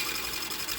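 A sewing machine winds a bobbin with a steady, even mechanical whir heard up close for a brief moment.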